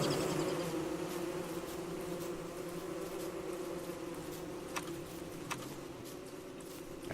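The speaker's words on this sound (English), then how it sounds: "the killer bees took care of the clockwork people" Killer bees in the Don't Starve video game buzz in a steady droning hum that holds throughout, with a few faint ticks and clicks scattered over it.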